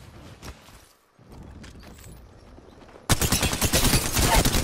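Gunfire in Apex Legends, scattered quieter shots and footsteps early on, then a sudden loud stretch of rapid automatic fire, close and sustained to the end.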